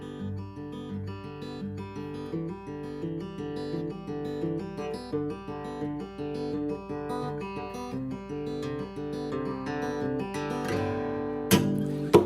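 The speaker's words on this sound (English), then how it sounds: "it's going to be an alternating pattern that sounds like this." Acoustic guitar fingerpicked in an alternating pattern, an even flow of plucked notes with a steady bass, close and clear, with a brighter accent near the end.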